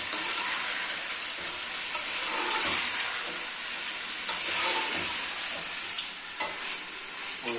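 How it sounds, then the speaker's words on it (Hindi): Chicken pieces frying in a karahi, a steady loud hiss and sizzle of oil with occasional scraping stirs, no voices. "इस तरह से चिकन को भून लेंगे।"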